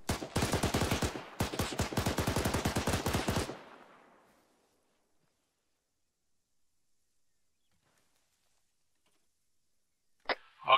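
A rapid automatic burst of gunfire, two quick strings of closely spaced shots lasting about three seconds with a brief gap, followed by long silence and a couple of faint clicks at the end.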